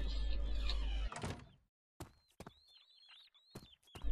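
Door in the horror video game Amnesia being unlocked and opened, a heavy thunk and sliding scrape followed by a pause, then several sharp knocks and creaks with faint squeaks, rather quiet overall.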